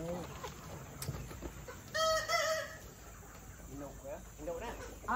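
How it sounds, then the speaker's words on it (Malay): Chickens cluck and crow around a farmyard, with a loud rooster-like call in the middle and people talking nearby. "Nak pilih dulu ayam. Untuk kita beli."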